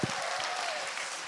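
A talk-show audience breaks into applause, with a brief burst of dense, even clapping that fills the room at moderate loudness.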